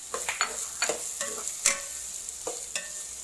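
Marinated chicken for butter chicken fries in a pan, a soft steady sizzle punctuated by sharp clicks and scrapes of stirring, close and fairly quiet.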